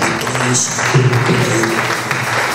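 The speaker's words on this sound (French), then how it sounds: "Acclamez pour toi-même." Clapping from a church congregation at a deliverance service fills the room as a dense, steady applause, with voices mixed into it throughout.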